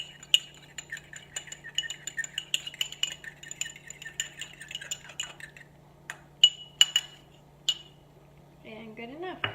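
A spoon clinks and scrapes against a dish in quick, light strokes while mixing locally made Amish horseradish sauce, quiet and close, with brief louder taps near the end.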